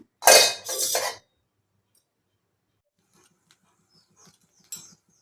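Talk comes first. Faint, sparse metallic clinks and light scrapes follow as a kadai frying pan is set on the stove for tempering tomato chutney.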